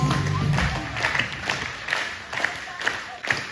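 A crowd at a nativity-style show claps for performers dressed as angels and stars, the clapping fairly soft and falling into a loose, regular rhythm with voices mixed in.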